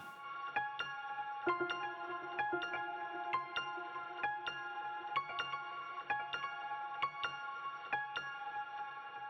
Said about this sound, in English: Like really shimmery keys on the right hand.